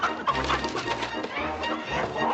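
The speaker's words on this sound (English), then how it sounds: "he was catching chickens" Chickens clucking and squawking in a 1959 Western TV episode scene, a dense run of busy bird calls over a low hum that continues throughout.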